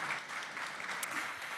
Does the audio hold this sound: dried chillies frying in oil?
no